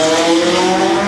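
White McLaren sports car pulling away from a Naples Fifth Avenue car show, a loud steady engine drone with strong harmonic tones held close for about a second, no voices.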